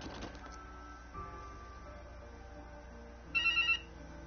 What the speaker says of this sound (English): My house phone ringing.